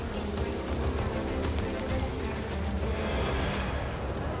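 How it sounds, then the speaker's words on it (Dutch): Heavy pouring rain falls on a hockey club's grounds, a dense, constant hiss and patter of drops that stays loud and even from start to finish. "Bij deze vereniging, in de hozende regen"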